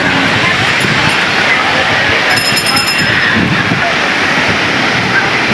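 Loud, constant roar of sea surf and strong wind buffeting the microphone at a beach in Morong, Bataan, unbroken throughout, with faint voices in the background.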